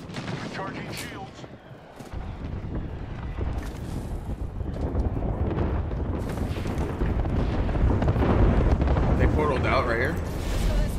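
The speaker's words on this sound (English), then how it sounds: "That's my airstrike." Airstrike explosions in the shooter game Apex Legends, a series of loud booms and rumbling blasts building and growing denser, mixed with gunfire, with voices talking over the barrage.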